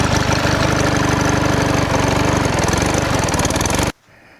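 A Toro lawn tractor engine runs loud and close while the machine is moved into a garage, a rapid, steady chugging pulse that stops abruptly near the end, leaving faint background noise.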